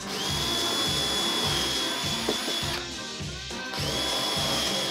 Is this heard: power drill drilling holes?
yes